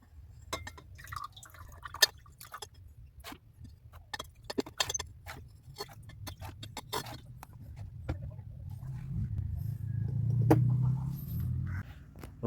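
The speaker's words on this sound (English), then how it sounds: "Transfer our precipitate here to a smaller beaker for easy washing." Gold precipitate is poured into a smaller glass beaker during gold recovery from an old Yamaha organ, giving soft liquid dripping and splashing with clinks of glass over a low steady hum, swelling toward the end.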